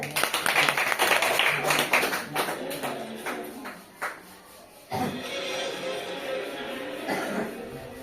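Young primary-school children at a classroom quiz break into loud, ragged clapping that fades after a few seconds, then a second burst of claps rises and carries on steadily to the end.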